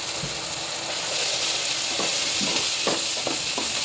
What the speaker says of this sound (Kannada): ಚೆನ್ನಾಗಿ ಫ್ರೈ ಮಾಡಿಕೊಡಿ.